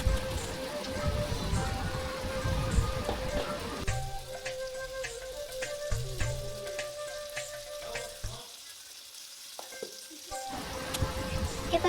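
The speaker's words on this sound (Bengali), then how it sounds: "মশলাটাকে ভালো করে আমরা একটু কষিয়ে নেব।" A mustard and poppy seed spice paste fries in hot oil for a pomfret fish dish, with a steady crackling sizzle, brief louder stirring scrapes, and a dip to near quiet before the sizzle returns.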